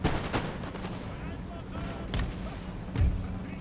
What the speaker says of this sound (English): And we can use those cannons to help us out.